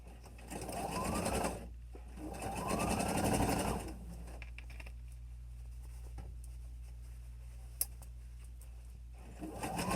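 A sewing machine stitches the corners of a fabric face mask, running in two close, loud whirring bursts with a brief back-and-forth pause, then a steady motor hum and faint clicks.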